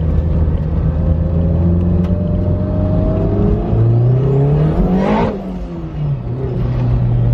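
A Toyota MR2 turbo engine pulls hard under acceleration, heard from inside the car: a loud climbing roar, then a sharp turbo whoosh and gear change before the revs build again.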